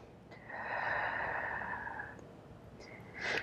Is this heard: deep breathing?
yes